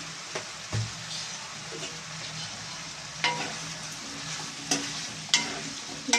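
Eggplant and potato curry being stirred in a pan after salt goes in, a low continuous sizzle punctuated by several sharp clinks and scrapes of the spoon on metal, no speech.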